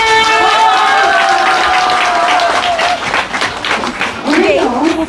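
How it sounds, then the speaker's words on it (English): An audience at a spiritual gathering applauds, a dense wash of clapping that swells and fades across several seconds, mixed with sustained musical tones and a voice rising near the end. "A big round of applause and gratitude to the divine being."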